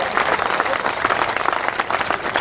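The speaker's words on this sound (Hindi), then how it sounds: "पूरा बेगूसराय बहुत जोरदार तालियां बजाएगा।" Dense, steady applause from a Kavi Sammelan audience in Begusarai on Bihar Diwas, a continuous wash of many hands clapping at even loudness for the whole stretch with no voices rising above it.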